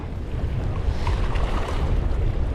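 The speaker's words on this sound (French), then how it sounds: "Il y a des belles vagues là-bas." Ocean waves roll at sea under steady, heavy wind buffeting the microphone, a continuous broadband wash with no pauses and no talk.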